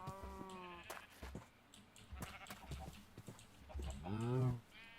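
Blocky sheep mob in Minecraft, modded FTB Unstable 1.8.9, bleating in wavering calls at the start and a louder one near the end, with scattered game sounds and footsteps between.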